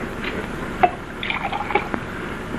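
Whisky and soda poured into a glass, close liquid splashes and trickles with a few clinking drips, heard in a short burst.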